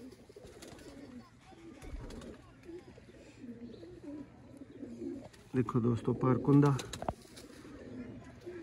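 Sialkoti pigeons in a hobbyist's loft giving soft, low cooing and a burst of wing flapping, heard under someone talking steadily nearby.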